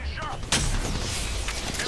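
A weapon firing in a video game, a sharp loud shot about a quarter of the way in followed by a rumbling tail, with a voice speaking around it.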